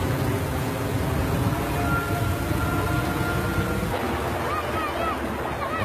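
Steady, heavy rain pours down continuously, a dense hiss that fills the whole time with no pauses.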